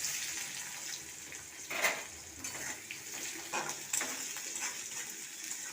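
Chopped onion hits hot oil already seasoned with dried red chili, bay leaf and five-spice, giving a quiet, steady sizzling hiss broken by light utensil clinks, with no talking.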